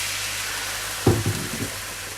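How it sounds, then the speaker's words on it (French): Pan deglazed with white wine while cooking involtini, giving a loud sizzling burst that rises suddenly midway and then fades into a steady frying hiss. "maintenant je vais déglacer avec du vin blanc"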